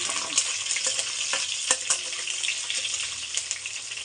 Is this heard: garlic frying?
yes